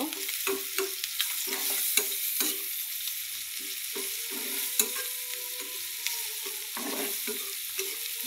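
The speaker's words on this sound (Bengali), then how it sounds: "এই চিংড়ি মাছ দিয়ে দিলাম, দিয়ে আমি এখন এগুলো ভালো করে মিক্স করে নেব" Shrimp frying with spices in a pan while being stirred, steady hiss of sizzling oil under rhythmic scraping and clinking of a spoon against the pan, close and alone.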